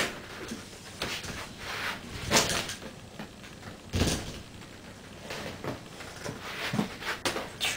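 A door is pulled back and forced open in several attempts, each a short scraping knock or clunk spaced a second or two apart over faint room noise.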